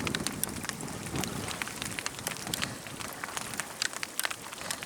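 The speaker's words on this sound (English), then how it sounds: "Can you see the hailstones bouncing off the rocks?" Hailstones patter and bounce off rocks on the Thames foreshore, a dense, steady rattle of many small sharp impacts close by, with no talk over it.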